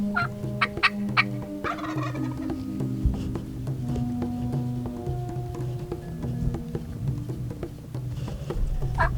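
Wild turkey gobbling repeatedly outdoors in spring woods, several loud rattling gobbles from more than one bird, some overlapping, with steady clucks and calls throughout and no talk.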